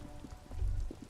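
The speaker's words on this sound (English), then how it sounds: "All around you, rain falls on the great city of Revachol." Rain falls over a city in the video game Disco Elysium: soft, scattered drops and a low watery rumble, fairly quiet and steady, with no voices.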